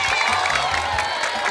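A children's studio audience on a TV quiz show claps and cheers in a short, dense burst of excited young voices and applause, close and lively throughout.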